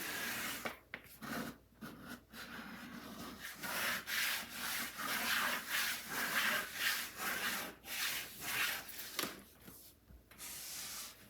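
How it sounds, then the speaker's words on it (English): Cardstock is burnished down by hand with steady back-and-forth rubbing strokes that repeat in a close, dry, scratchy rhythm for several seconds, with only brief pauses between passes. "take care to burnish that down really well"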